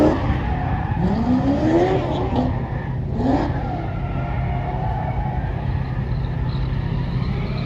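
A supercharged Dodge Hellcat engine revs hard with a rising whine that swells and drops a few times over a steady rumbling idle, loud and close, with no talk.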